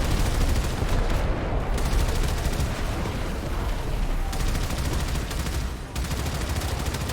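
Heavy continuous gunfire from a ship's crew firing on incoming attack craft in the video game Warframe, a dense, loud barrage that runs unbroken for the whole stretch with only brief dips.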